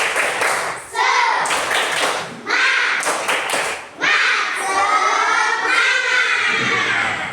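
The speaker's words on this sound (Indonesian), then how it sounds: "coba tepuk semangat dulu." A classroom of children doing a rhythmic spirit clap, loud and close, with bursts of claps and chanting voices in several phrases, a teacher's class session setting.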